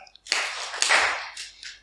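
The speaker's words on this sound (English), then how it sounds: "we're going to clap twice" Children at a Christmas-season kids' talk clap together twice, two close, bright bursts of group clapping after a brief quiet start.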